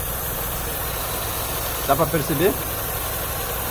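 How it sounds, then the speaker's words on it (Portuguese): A Honda City engine idles with a misfire, a steady low rumble with a short stumbling burst near the middle, heard close, as a man asks a brief question over it. "Olha aí, o motor começou a pular, ó."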